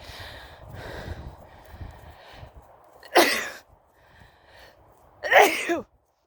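After quiet background murmuring, a dog gives two loud, sharp sneezes a couple of seconds apart, close by, on an evening walk.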